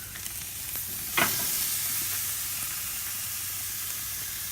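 Porterhouse steaks laid diagonally on a hot grill, a loud continuous sizzle and hiss after a brief sharp burst as the meat hits the grate.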